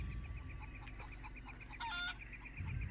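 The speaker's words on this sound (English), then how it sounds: "But we've got chickens!" Chickens in the video game Far Cry 2 clucking in a fast, regular pulse over low rumbling background noise, with a brief louder squawk partway through.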